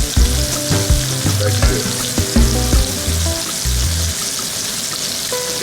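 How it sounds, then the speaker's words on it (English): Chicken sautés in a frying pan with a loud, continuous close sizzle and crackle, punctuated by stirring clatter and spatter, with almost no talk over it. "making a juicy chicken saute"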